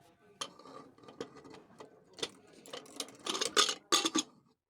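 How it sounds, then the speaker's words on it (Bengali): A lid being fitted onto a pressure cooker of khichuri: faint scattered metallic clicks and clinks that build to a louder cluster of clattering knocks near the end, close by and without speech. "তো জল দেওয়ার পরে এবার প্রেশার কুকারে ঢাকনা লাগিয়ে দেব।"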